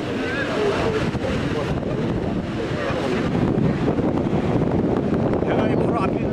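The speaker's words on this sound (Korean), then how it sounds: "배는 높은 파도에 떠밀려 위험천만한 모습으로 흔들리는데요." High waves about 3 m tall rock a boat heading out into the North Atlantic, giving a constant rush of water and wind buffeting that stays loud and rough throughout.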